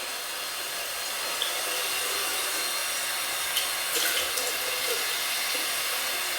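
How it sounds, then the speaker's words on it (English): Warm water runs steadily from a tap, a continuous even hiss at close range with no talking. "You get warm water, just enough that it doesn't burn you."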